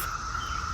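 A steady, high-pitched insect drone buzzes continuously, close and moderately loud, with no pauses or voices.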